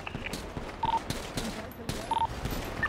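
Gunfire in a GTA roleplay video game, sharp rapid shots in short irregular bursts, fairly close, mixed with brief electronic beeps and tones.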